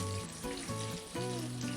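Pan pizza sizzles and crackles steadily in a hot skillet, with faint tonal hums and clinks running underneath.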